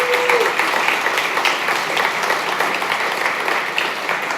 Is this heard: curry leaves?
no